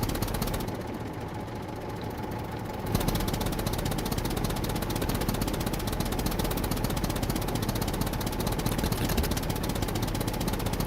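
Diesel tractor engine in SCUM idling, a dense steady chugging rumble with a rapid knocking texture, close and continuous, growing slightly fuller after a few seconds and running on without talking.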